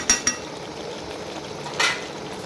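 Chicken stirred in a pan with chopped coriander: a few sharp utensil scrapes and clinks against the pan over a soft frying hiss, close and moderately loud, with no talking.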